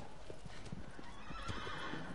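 A horse in a video game gallops with rapid, steady clip-clop hoofbeats and lets out a whinny, all fairly close and continuous over about two seconds.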